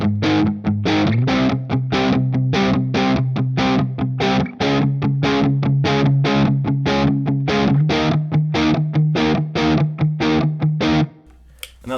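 An electric guitar plays a song's outro with a distorted, chorus-tinged tone, repeating quick rhythmic chords in a steady pulse while the bass note shifts a few times, then stops.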